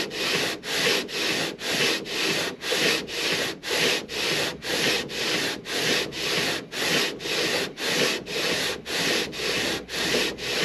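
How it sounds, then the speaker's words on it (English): Rhythmic back-and-forth hand sanding of wood for a parlor guitar build, about two strokes per second, steady and close, with no talking. "I'm actually technically sanding twice in the middle, and I'm more in the middle and less on the two ends"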